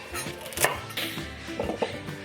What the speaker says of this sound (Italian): cominciamo intanto a tagliare le verdure e lo facciamo a pezzettoni